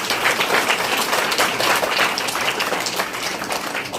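Audience clapping at an Independence Day ceremony at a government senior secondary school, a steady dense wash of applause from many hands that holds fairly even throughout.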